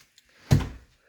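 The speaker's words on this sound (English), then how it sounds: "So I'll close that door again." A door shuts once with a single soft, close thunk, alone in an otherwise quiet indoor room.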